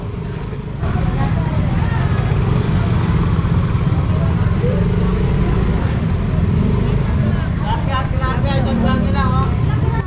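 Motorcycle engine droning steadily while riding slowly through a crowded traditional market in Angeles, Philippines, with crowd chatter and street bustle around it.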